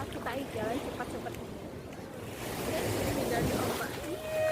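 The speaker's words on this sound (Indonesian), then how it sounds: "Dan ombak." Ocean waves at Banyu Meneng beach in Malang roll and slosh in a continuous rushing wash that swells louder toward the end, with people talking nearby and some wind.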